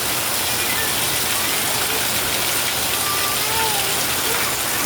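Very heavy rain pouring down in Metro Manila, a dense continuous hiss of downpour on surfaces, loud and unbroken throughout with no voices.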